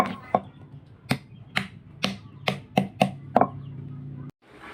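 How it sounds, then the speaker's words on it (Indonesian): A stone pestle grinding shallots, garlic, red chili, shrimp paste, palm sugar and tamarind strikes the mortar in about ten sharp, evenly spaced knocks, moderately loud and close, with faint scraping between them. "bawang merah, bawang putih sama cabai merah, terasi sama gula merah sama asam, diulek-ulek sampai halus"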